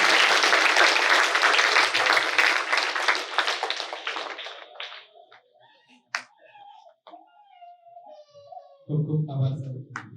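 Loud applause from a crowd welcoming guests at a school Republic Day celebration at Navdeep Vidhyamandir, Talegadh, fading out after about five seconds into quieter scattered sounds and a low voice.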